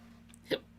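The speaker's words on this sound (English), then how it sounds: "hiccups, oh dear" One short, sharp hiccup sounds once near the middle, close and clear, in an otherwise quiet indoor room with a faint hum.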